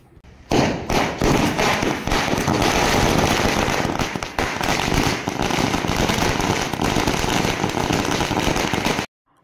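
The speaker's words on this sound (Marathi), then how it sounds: "फटाक्याचा आवाज हिला सहन होणार नाही" A loud, dense string of firecrackers bursting nonstop at a street welcome in Latur, crackling and popping close by for several seconds before cutting off abruptly.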